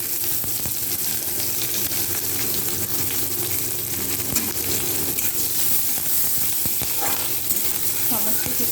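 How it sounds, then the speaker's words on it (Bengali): Onion, green and dry chillies and five-spice fry in hot oil, giving a loud, dense, unbroken sizzle with faint stirring beneath it throughout. "সমস্ত কিছুকে আমি লাল লাল করে ভেজে নেব"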